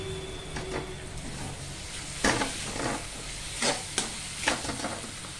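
Egg bhurji, scrambled eggs seasoned with salt, green chilli, masala and coriander powder, stirred and fried in a pan, with a steady sizzling hiss and repeated scraping stirs, including a few sharper spatula clacks, close by with no talking.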